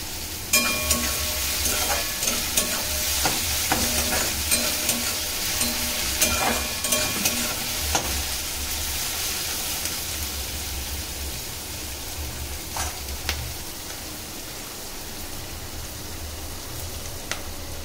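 Chopped onions fry in a pan for a Bengali chicken kosha, giving a steady close sizzle with occasional stirring scrapes and clicks throughout.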